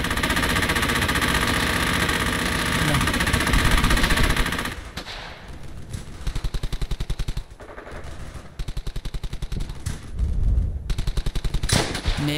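Machine-gun and rifle fire in the World War II shooter game Brothers in Arms: Hell's Highway, a dense continuous roar of shots that breaks into sharp rapid bursts separated by short pauses.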